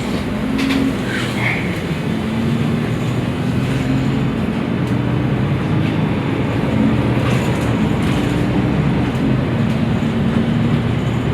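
Airport rail line train running at an airport station, a loud steady rumble of the carriage with a low engine drone and faint clicks of wheels on track throughout, no speech.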